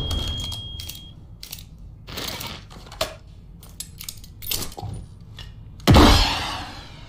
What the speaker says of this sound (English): Place the charge, detonate the target.